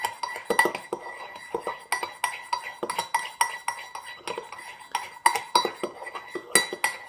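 A metal spoon clinks and scrapes inside a cup while stirring frothy coffee, a rapid irregular series of close, bright taps and rattles, back and forth, with no talking.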